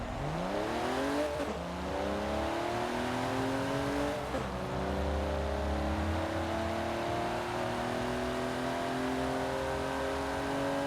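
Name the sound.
GMC Syclone pickup engine accelerating on quarter mile, Forza Horizon 4 video game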